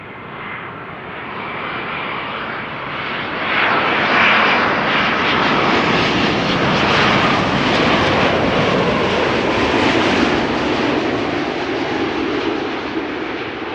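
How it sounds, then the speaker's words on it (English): Wide-body jet airliners at Amsterdam Schiphol roll past as a loud, sustained engine roar with a rushing, hissing edge that swells and holds steady, close by and with no voices. "3 back-to-back wide bodies now."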